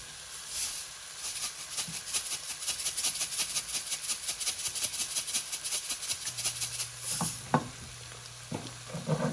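Onions sizzle steadily in a hot pan with a pinch of salt, a continuous crackling fry with occasional stirring clinks and scrapes near the end.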